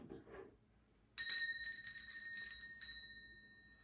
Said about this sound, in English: you can follow this bell